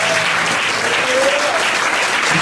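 Church congregation at a Sunday service applauding loudly for the Lord, a dense, continuous wash of clapping from a large crowd with cheering voices mixed in throughout.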